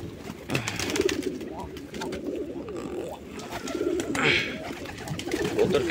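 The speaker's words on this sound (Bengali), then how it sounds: "কবুতর কীভাবে ঢোল বাজায়" Hunting pigeons coo in repeated low, throaty rolls, close by and moderately loud, with a faint rustle of the loft in the background.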